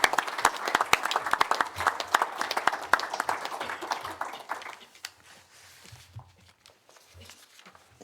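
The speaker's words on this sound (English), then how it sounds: "can we give him another clap again" Council members at an annual council meeting clap for the outgoing chair, a lively round of close, dense clapping that fades away after about five seconds into quiet room noise with faint shuffling.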